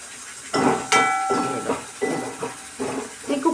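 A pressure cooker on the stove hisses out steam in repeated rough bursts, with a brief whistling tone early on, fairly loud and close, with no voices.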